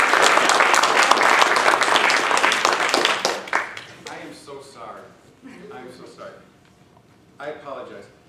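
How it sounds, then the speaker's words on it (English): Audience applause for six contestants at a Toastmasters table topics contest fills the room loudly for about three seconds, then fades into scattered, softer clapping with some speech-like murmur and a brief final burst. "let's give a fine round of applause to all six of our wonderful contestants"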